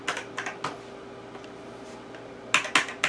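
Keys clatter on a Tandy 1000SX computer keyboard in short bursts of close, crisp typing, a few quick clusters separated by a quiet pause, with no one speaking.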